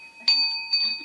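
A single bell tone rings out once, bright and close, with a sustained ringing tail, then a second fainter strike or echo follows; steady high hum underneath.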